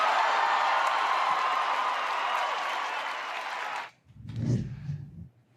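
A large room of people cheers and applauds loudly and steadily, the roar holding for several seconds before cutting off abruptly, followed by a brief low rumble of movement or murmur.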